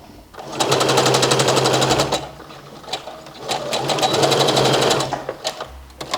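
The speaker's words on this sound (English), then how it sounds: "Now we are going to sew both of the side seams, overlock it and press it." A sewing machine stitches the side seams of a shirred top in two steady motor-driven bursts, each lasting over a second, with a brief pause and lighter handling noise between them. The machine sounds close and loud.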